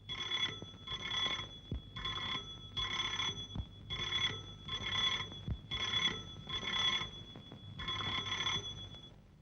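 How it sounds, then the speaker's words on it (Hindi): An old landline telephone rings in repeated paired bursts of a bright metallic bell, about eight regular rings, clear and moderately loud indoors. "ये 10वीं बार रूप का टेलीफोन आया है।"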